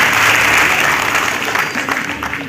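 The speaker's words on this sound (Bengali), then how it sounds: "একটা জোরদার করতালি আমাদের এই সহযোগী বন্ধুদের জন্য।" Loud, sustained applause from a crowd at a live stage event, dense and continuous throughout, easing off slightly toward the end.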